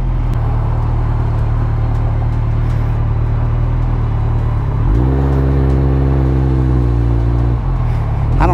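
A Kawasaki ZX-14R motorcycle idles with a deep, even hum, then its engine revs up sharply as it pulls onto the road. The note climbs and holds for a few seconds before dropping back.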